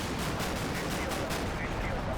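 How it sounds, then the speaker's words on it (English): Scattered small arms fire in a Combat Mission wargame battle, a faint, steady crackle of distant shots running throughout with no clear individual bursts. "There's a bit of small arms fire there."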